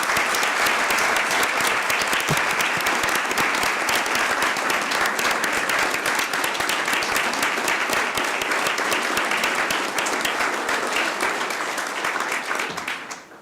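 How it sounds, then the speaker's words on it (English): Sustained loud applause fills a city council chamber as the audience honors public employees, a dense, even roar of many hands clapping for over twelve seconds before tapering off at the very end. "Let's give our employees a round of applause."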